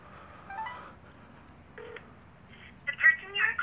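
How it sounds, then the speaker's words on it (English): A telephone is dialed for a call, several short keypad tones coming in brief clusters over a low background hum, with a voice heard faintly. "The person you are calling cannot accept calls."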